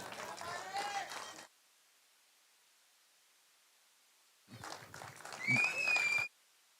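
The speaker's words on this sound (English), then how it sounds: "Please give a big round of applause." An audience at a cricket final ceremony claps in two short bursts separated by a few seconds of near silence, a soft, distant patter of applause.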